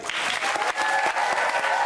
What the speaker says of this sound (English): Round of applause for Gary.